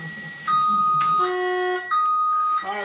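An alarm being set off, a sequence of loud steady electronic beeps and tones that change pitch in short held steps, close by with a brief pause in the middle.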